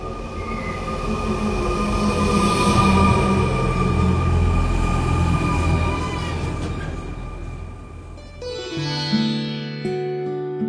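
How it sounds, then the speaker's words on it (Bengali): A metro train arriving at a station rumbles in steadily with rising wheel noise and a faint squeal, then slows and settles, leaving a quieter hum near the end. "চল চল উঠি, মেট্রো ঢুকছে, চল।"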